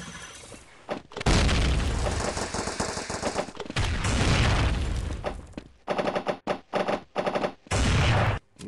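Machine gun fire in the CopsNRobbers video game, loud rapid bursts with booming hits, first one long sustained volley and then several shorter sharp bursts separated by brief pauses.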